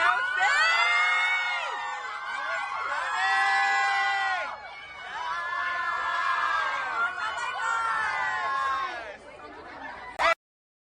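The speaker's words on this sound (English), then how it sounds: "I apologize again for the shrieking and squealing." A crowd at a celebration shrieking and squealing in high, sustained bursts, with cheering and chatter mixed in, loud and close, ending abruptly.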